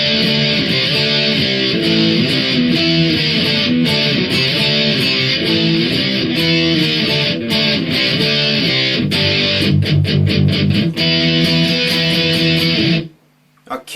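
Distorted electric guitar plays a song's chorus, a dense, loud, continuous stream of chugging chords and palm-muted riffs that stops abruptly near the end.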